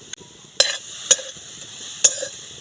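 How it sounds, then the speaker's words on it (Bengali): Grated coconut stirred in a dry wok over a lit stove, giving a few sharp scraping clinks spaced about half a second apart over a faint, quiet background hiss. "কড়ার মধ্যে নারকেল কোড়া দিয়ে দেবো। নারকেল কোড়াটা একটু নেড়ে নেব।"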